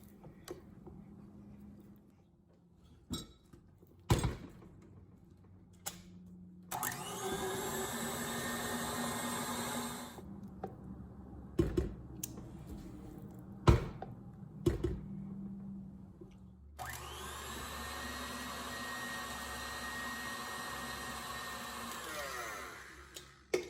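An electric mixer whipping a shea butter body cream, running in two sustained whirring bursts of several seconds each, separated by a quieter stretch of scraping and clicking from the pot, close by with no voices.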